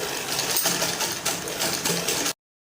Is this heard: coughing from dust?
no